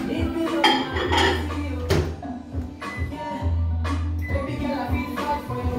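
Kitchen clatter as a dish of butter is set into a microwave for melting: a few close clinks and knocks of dishware against surfaces with a low steady hum, alone without speech.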